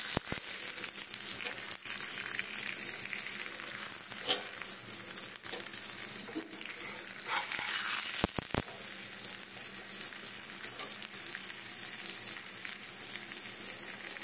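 Parathas with coriander leaves and carrot frying in a pan, a steady close sizzle running throughout with a few brief clicks and stirring scrapes near the middle.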